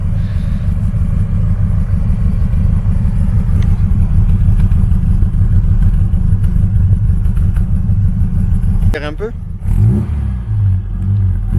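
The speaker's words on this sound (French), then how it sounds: "voilà le son de la ligne avec le petit silencieux." A Ford Capri 3S idles loudly through an exhaust line fitted with a small silencer, a deep steady rumble held close by with a brief blip of revs near the end, and someone says a couple of words over it.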